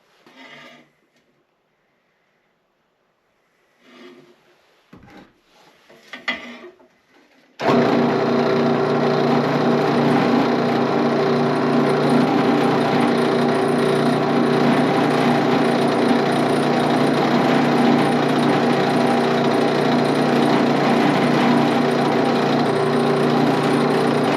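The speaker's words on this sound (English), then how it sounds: "All right, we got our first hole drilled." A loud, steady power drill whines continuously drilling holes in metal for a three-point rake for a Kubota B2601 tractor, following a few brief handling clatters and knocks at the start.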